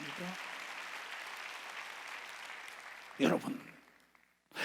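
A steady wash of congregation clapping at a Sunday church service fills the air, then fades out, followed by a brief voice and a short sharp sound at the end.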